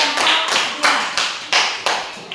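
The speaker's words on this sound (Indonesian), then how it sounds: "berikan tepuk tangan untuk kelompok" A classroom group gets applause after presenting, with several rhythmic bursts of clapping close by, and no talking in between.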